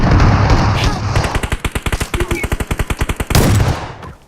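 Rapid automatic gunfire from a magazine in a 3v2 video game match, a dense burst of about twenty evenly spaced shots following muffled game noise.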